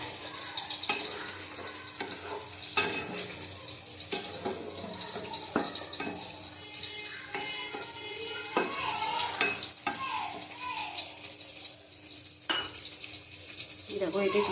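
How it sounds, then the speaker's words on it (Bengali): Bitter gourd frying in a pan until browned and crisp, a continuous close sizzle broken by repeated spatula scrapes and clanks against the metal, with no one speaking. "উচ্ছে ভাজাটা লাল লাল করে একটু কড়া করে ভাজলাম।"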